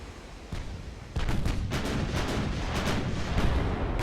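Warship main-battery guns fire in the Ultimate Admiral: Dreadnoughts naval game, a loud rapid series of booming shots that thicken into a dense rumbling barrage, with no talk.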